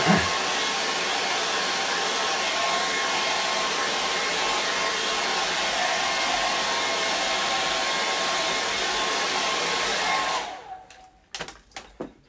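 A hair dryer blowing on charcoal and acrylic portrait artwork, a loud steady close roar that holds for about ten seconds before switching off, followed by a few small handling knocks.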